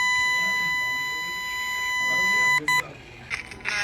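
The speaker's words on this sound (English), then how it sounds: "Here's the output of our 1K sine wave." A steady, pure 1 kHz sine test tone with faint harmonics holds for a few seconds, then cuts out abruptly into brief clicks and a short burst of noise.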